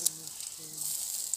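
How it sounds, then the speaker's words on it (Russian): Chicken meat fries in a pan, giving a steady, faint hiss and sizzle with a brief crackle at the start, under a low background hum. "Мяско, мяско жарим."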